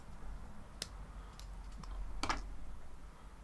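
Scissors snipping into card, a few small crisp clicks spaced apart, quiet and close against low room noise.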